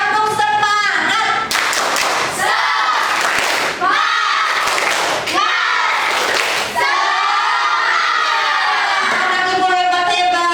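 Classroom of children, a sixth-grade class, performing the tepuk semangat clapping chant together, with rhythmic group claps and loud shouted chanting from the crowd, continuous and energetic throughout.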